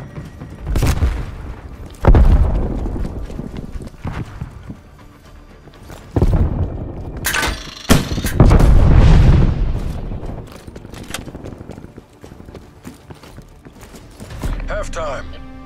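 Frag grenade explosions in Call of Duty Black Ops Cold War multiplayer, several loud booming blasts spread across the span with rumbling low-end decay, mixed with other gameplay effects and intermittent talk.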